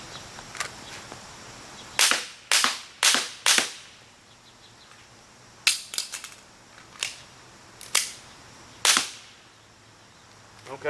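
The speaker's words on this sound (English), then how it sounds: "Okay, so I dropped some rounds at 30 feet." Handgun shots fired at a stationary target from 30 feet on a shooting range: sharp, loud cracks in quick clusters of three to four, with pauses between groups and a brief tail after each report.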